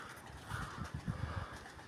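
Pigeons coo in low, soft, repeated throaty bursts outdoors on a windy day, fairly faint and steady, with no voices over them.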